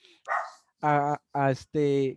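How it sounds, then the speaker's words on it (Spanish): A small female dog indoors gives three sharp, close barks in quick succession after a brief breathy sound, loud against an otherwise quiet room. "tengo mi perrita aquí"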